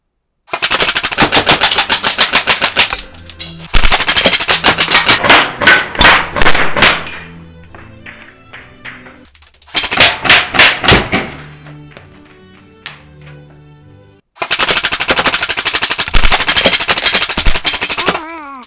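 An Arcturus AK12 airsoft gun fires BBs in rapid full-auto bursts, loud sharp clattering cracks in several strings of varying length separated by pauses, the last burst long and sustained.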